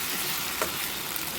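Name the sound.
masala frying in a pan for prawn curry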